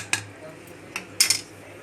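Steel vessel set down inside a pressure cooker holding water, a few light metallic clinks and taps, close and fairly quiet.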